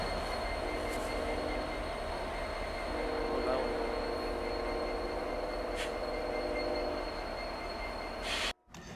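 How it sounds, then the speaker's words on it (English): A BNSF freight train rolls toward a railroad crossing on a winter day, a low, steady rumble with faint wheel squeal and distant horn tones, holding at a moderate distance throughout. "you can already hear our next train approaching"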